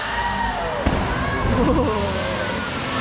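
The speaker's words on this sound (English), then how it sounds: "when a killer whale leaps out of the water and crashes down on the surface, that's called a breach" A killer whale crashing onto the water at a marine park show, a heavy splash and sloshing water amid crowd noise and amplified voices.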